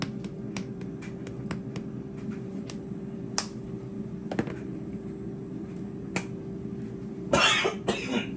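A single cough near the end, close and fairly loud, set off by seasoning while preparing air fryer chicken wings, after a stretch of sharp clicks and taps over a steady low hum.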